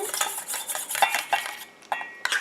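Melted oil phase and heated water phase being stirred together into a cleansing milk emulsion, heard as close, rhythmic swishing and clinks of a utensil against a small container, with a few sharper taps near the end.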